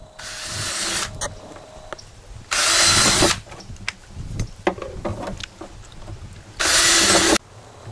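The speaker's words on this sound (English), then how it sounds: "Pre-drilling holes for rivets." Power drill pre-drilling holes for rivets, three loud bursts of whirring drilling separated by quieter clicks, taps and handling noises nearby.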